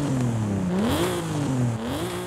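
A Nissan 350Z with stock exhausts roars in Forza Horizon 5, a steady, loud game engine note that rises and falls in pitch as the revs climb, dip and climb again, with no voices.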